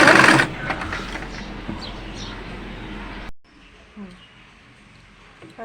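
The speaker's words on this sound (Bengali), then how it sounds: "সাইডগুলো সেলাই করে নিচ্ছি।" A sewing machine runs in a fast, steady whir while stitching the sides of a top, then stops abruptly after about three seconds, leaving only faint room sounds.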